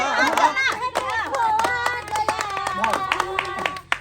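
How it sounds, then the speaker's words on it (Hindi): Hand clapping breaks out at a comic wedding scene, with sharp irregular claps under constant chatter and children's voices close by. "ताली बजाओ ताली बजा"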